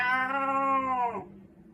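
A single long cat meow plays from a film scene. It is loud and clear, with a harmonic, slightly bending tone that fades out after about a second, and no talking over it.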